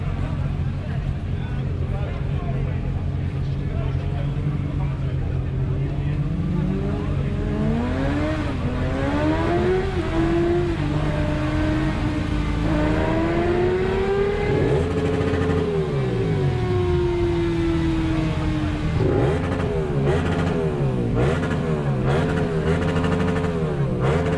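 A Yamaha MT-07 motorcycle with an Akrapovič exhaust revving repeatedly nearby at a season-opening meet in Olsztyn, engine pitch climbing and falling through long throttle sweeps, loud and raspy throughout, with people talking over it.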